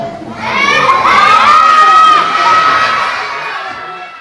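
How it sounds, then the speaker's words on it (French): A crowd of children shouts together at a Christmas show, a loud sustained chorus of young voices swelling and slowly fading, close and filling the room. "c'est bien beau de crier, mais il faut rentrer en scène, vous aussi"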